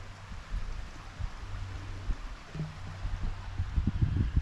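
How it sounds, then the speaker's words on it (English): A creek running through a wooded drainage gives a low, steady wash of flowing water with soft rustling on top, close by and continuous, with a few louder knocks toward the end. "with a creek running through the drainage"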